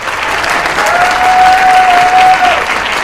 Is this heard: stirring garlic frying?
no